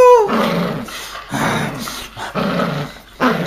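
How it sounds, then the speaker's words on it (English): A Maltese puppy growls in steady, rumbling bursts that go on almost without a break, close and fairly loud, each burst separated by a brief catch of breath. "You make a good guard dog, Albie."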